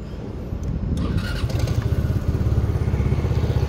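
A Rusi Force 150 motorcycle engine cranks briefly, catches, then settles into a steady, throbbing idle close by, with no talking over it.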